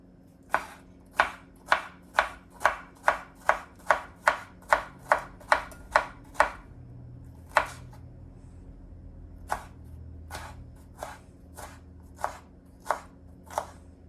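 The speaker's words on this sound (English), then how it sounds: "Okay, now the cilantro's cut up pretty finely." A knife chops onions and cilantro for guacamole on a cutting board, a regular run of about a dozen crisp close strikes, then a pause and a few scattered chops.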